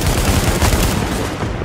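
Heavy gunfire rattles through a firefight in the video game Tom Clancy's The Division, loud and dense, with shots overlapping into a continuous volley with no clear gaps and no talking.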